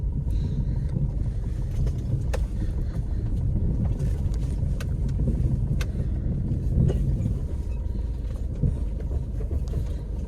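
A car cruising along a road at night, steady loud engine and road rumble with wind noise throughout, no one speaking.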